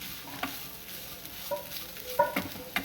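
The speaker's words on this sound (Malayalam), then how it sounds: "നമുക്കത് വഴുതനങ്ങി ഉള്ളിയും കൂടെ വര വാട്ടി വരട്ടിയെടുക്കാം" Soft frying sizzle of brinjal and onion sautéing in a pan with occasional scraping stirs and light clinks, close by, no one speaking.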